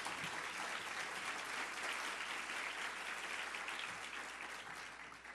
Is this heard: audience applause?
yes